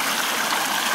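A stream at an autumn highland campsite flows and bubbles steadily, a close, full wash of rushing water without pauses and with no voices.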